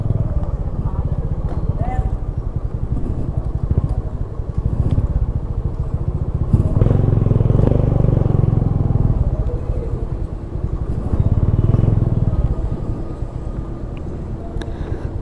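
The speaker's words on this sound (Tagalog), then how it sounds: "dito natin ipila yung motor natin para i-check po nila" A motorcycle engine rumbles steadily at idle in an inspection queue, close by, with wind buffeting the microphone and a person talking over it.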